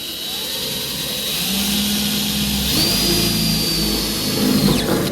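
A 1/4 inch bit drills out a spot weld on a car body panel during rust repair, a steady whining power-drill drone that rises in pitch partway through and stays loud and continuous throughout.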